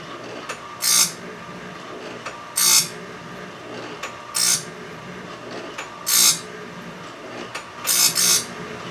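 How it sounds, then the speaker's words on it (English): Sharpener grinding a Mighty Mite sawmill band blade, with short bright grinding bursts repeating about every 1.7 seconds over a steady motor hum, loud and close with no talk. "So I'll get this first blade sharpened up, and we'll get some more done, get some blades sharpened up so I can run that mill"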